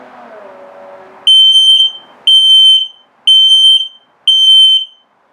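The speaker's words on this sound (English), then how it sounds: "and then the low battery alarm." Four loud, shrill smoke alarm low-battery beeps in an even rhythm, each about half a second long, following a brief low hum, inside a 2021 CrossRoads Sunset Trail 253RB travel trailer.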